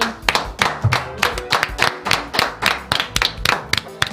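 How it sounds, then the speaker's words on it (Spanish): A few studio hosts clap by hand on a radio or streaming talk show to welcome a guest, sharp close claps in an uneven, slightly ragged rhythm for about four seconds, with no talk over them. "Nuestras palmas se disponen a aplaudir la llegada de Pablo Semán"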